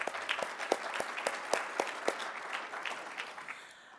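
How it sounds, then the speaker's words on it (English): Brief, moderately loud applause from a crowd at a school athletic hall of honor ceremony, thanking the communication and athletic staff, with a few distinct claps standing out before it fades. "let's finally give them a round of applause"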